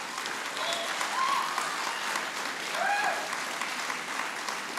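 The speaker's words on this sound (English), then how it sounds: "Finally, I got some applause." Applause breaks out at a school board meeting, a sustained, moderately distant patter of clapping from the room's audience with no talking over it.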